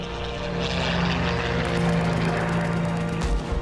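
Propeller-driven RAF fighter planes fly past with a steady, loud droning engine roar that swells slightly and holds throughout, with no talk.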